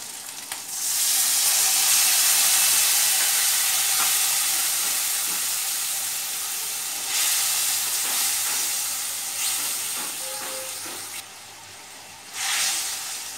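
Spice paste of salt and ginger paste sizzles and hisses loudly in a hot pan just after water is added, a steady frying roar for a fish-head and ash gourd curry that eases slightly, with brief bursts of steam near the end.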